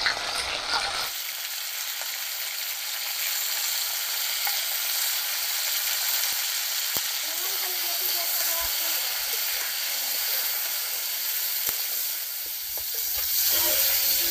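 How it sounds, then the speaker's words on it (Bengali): Cauliflower and potato pieces fry in mustard oil with salt and turmeric, giving a loud, steady sizzling hiss that holds through the whole stretch, with faint scrapes and stirring knocks mixed in and no one talking. "ফুলকপি আর আলু ভাজা হয়ে গেছে"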